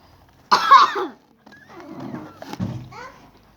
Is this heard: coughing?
yes